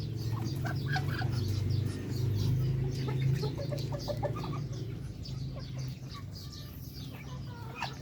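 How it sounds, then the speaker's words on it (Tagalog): Native darag chickens cluck in a breeding pen, with many overlapping bird calls at moderate distance over a steady low background hum. "marami tayo ditong mga native darag. Yan po yung ating mga native darag."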